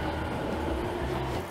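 Train arriving in the video game 13 Sentinels: Aegis Rim, a steady low rumbling roar with a faint tonal hum, continuous and fairly loud, without speech.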